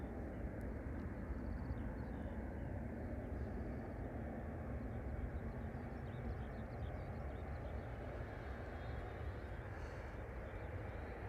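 A KLM Airbus A330-300 taking off at Amsterdam Schiphol Airport, heard from a distance as a steady, broad rumbling engine roar that holds at a constant level throughout.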